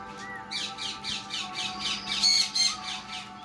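Parrots at feeding time squawk in a run of harsh, repeated rasping calls, about eight in quick succession, loud and close over a low background hum.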